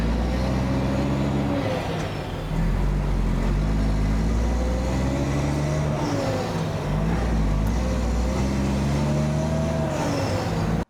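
A truck drives along the road with a steady heavy engine drone and gear-shift pitch sweeps as it accelerates, loud and close throughout, with no talk.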